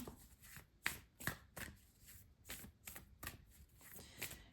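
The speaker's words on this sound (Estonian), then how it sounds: "Võtan teile viimased kaardid ka." Tarot cards are shuffled and drawn close by, with a quiet series of crisp card slaps and riffles in an irregular rhythm.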